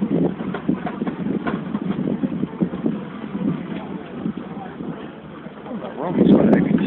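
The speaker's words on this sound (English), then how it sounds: "That's a hell of a cultivator for a small machine." A small single-cylinder cultivator engine runs nearby with a rapid, pulsing chug that swells near the end. Wind buffets the microphone and someone talks over the noise.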